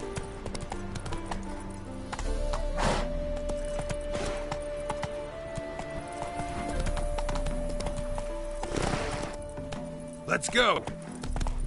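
Hooves of the horse Roach clip-clop in a steady gallop in The Witcher 3: Wild Hunt, with a neigh and a brief spoken line over the hoofbeats.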